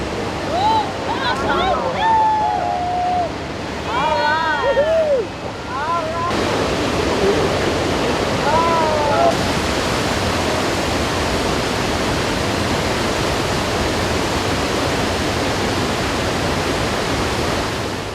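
The Rogue River rushes freely after the Gold Ray Dam removal, a steady broadband roar of flowing water that fills the scene, with a voice and some faint whistling tones over it early on.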